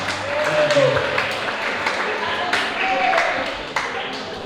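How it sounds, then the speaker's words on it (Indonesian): A school audience at an SMK Maharati language-month celebration applauds a speech contestant with scattered, moderately loud clapping, while voices talk through it. "sekali lagi berikan tepuk tangan yang meriah untuk Adira Suspika"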